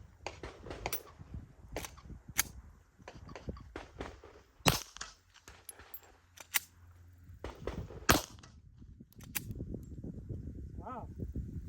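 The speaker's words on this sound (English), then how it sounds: "I'm shooting some real ammo, some real old ammo" A Glock handgun fires old ammunition at an outdoor range, giving several sharp cracks spread out with irregular pauses, some near and loud, others fainter, while a person talks between shots.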